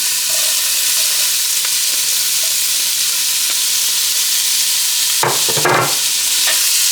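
Onion sautés in olive oil in a pan, a loud continuous sizzle that holds steady, broken near the end by a couple of sharp scraping stirs.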